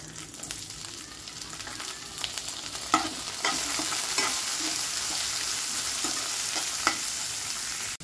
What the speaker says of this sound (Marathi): आता याच्यात टाका टोमॅटो